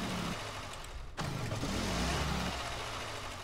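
A car engine in the Roblox game A Dusty Trip cuts out abruptly and then restarts and runs steadily. The vehicle is driving on sand, which makes the engine stall. The engine noise is loud and continuous throughout.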